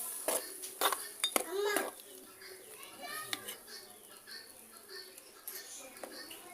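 Jackfruit erissery is stirred in a pot with a metal spoon, giving scraping and clinking sounds, with a few sharp knocks at the start, while a voice talks over it throughout.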